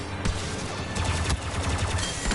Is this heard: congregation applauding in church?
no